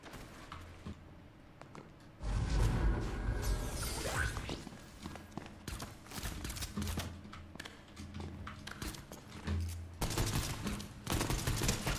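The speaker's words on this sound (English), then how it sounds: "I'm gonna snipe them." Rapid bursts of gunfire from a Fortnite match, sniper shots among dense, loud repeated blasts with whooshes, continuing in clusters throughout.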